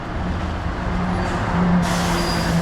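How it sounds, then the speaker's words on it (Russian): A city bus pulls in at a stop on the way to Svetly in the Kaliningrad region, giving a steady low engine rumble with a brief hiss of air brakes, heard up close and continuous with no talking. "Не путайте, это автобус на Светлый."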